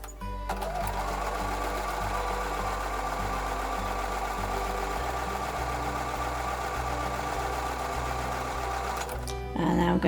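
A sewing machine stitches quilt block pieces a quarter inch from a marked line, a loud steady mechanical whir running continuously and close for several seconds before stopping near the end.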